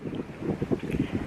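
Wind at the North Sea coast near Cuxhaven buffets the microphone in short, uneven gusts, giving a brief, rough, rumbling noise up close.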